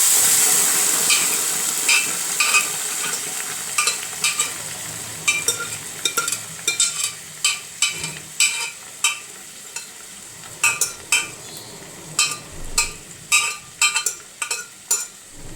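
Beans fry in a pan with chillies, a soft sizzle under rhythmic, repeated scraping strokes of a spoon stirring, close and clear, no voices.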